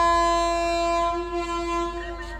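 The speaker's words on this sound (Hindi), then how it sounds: "चलो ट्रेन चल पड़ी, लेते हैं डिपार्चर।" The Andhra Pradesh Sampark Kranti Express departing on the Hazrat Nizamuddin to Bhopal route, heard as a loud, steady, sustained horn blast with a deep rumble of the moving train underneath, close and continuous throughout.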